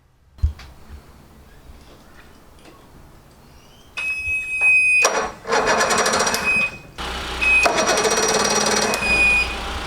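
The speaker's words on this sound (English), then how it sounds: "This is going to be the first time we've tried starting this engine." Evinrude outboard boat engine from a half-cabin boat restoration, an auction purchase, cranked over in repeated bursts that clatter and whirr loudly without catching, each attempt stopping short, with a high mechanical whine in between.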